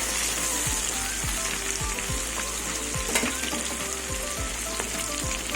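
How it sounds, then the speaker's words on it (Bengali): Fresh live desi pond tengra fish sizzle steadily in a pan, a constant hiss broken by soft, regularly spaced low thumps as the pieces are moved or turned; no one speaks. "মাছগুলো ভাজা হয়ে গেছে"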